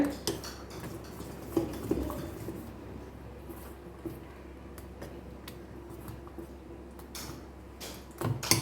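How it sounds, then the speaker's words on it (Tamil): Soft, irregular scraping and light clinking of a utensil stirring adai dosa batter in a bowl, close by and quiet, with a few sharper knocks. "நல்லா மிக்ஸ் பண்ணிடுங்க, நல்லா அடித்து கிண்டி வச்சுருங்க"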